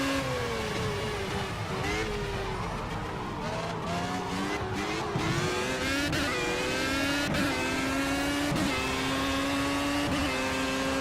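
A race car engine howls through the gears at Spa in Project CARS, its pitch rising and falling with each shift. The note stays loud and steady across the whole lap segment, with no talking over it.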